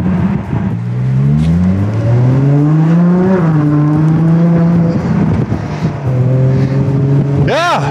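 A Ferrari Monza SP1 open-top speedster drives along with a loud, steady engine drone that rises in pitch through the gears, and someone talks over it throughout.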